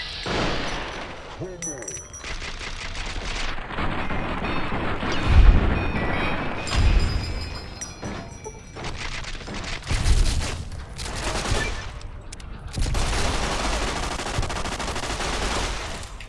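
Gunfire in the Fallout: New Vegas shootout around Benny and his Chairman bodyguards: repeated bursts of shots and heavy booms, loud and close, forming a near-continuous fusillade with short lulls.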